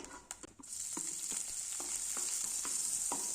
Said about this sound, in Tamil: அதுக்கப்புறம் நம்ம தட்டி வச்சுருந்தோம் இல்லையா வெங்காயம் பச்சை மிளகா கருவேப்பில்லை அதை வந்து நம்ம இப்போ போட்டுக்கலாம்